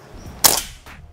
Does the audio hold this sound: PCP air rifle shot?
yes